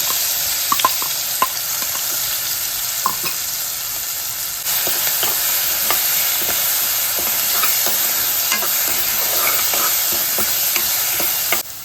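A ground coriander and garlic paste fries in hot oil with mustard seeds, cumin and turmeric, a continuous loud sizzle layered with scraping and clicking stirring strokes, with no voices.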